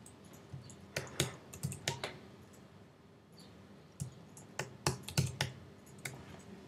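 Someone types a password on a computer keyboard at a login screen, with two bursts of quick, uneven key clicks separated by a brief pause. The keys sound close and moderately loud against a quiet room.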